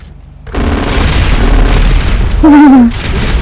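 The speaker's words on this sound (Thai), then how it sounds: "ทำไมรถมึงไม่ระเบิด" A video game car explosion bursts loudly after a brief quiet, followed by a sustained roaring rumble; a voice cries out briefly partway through.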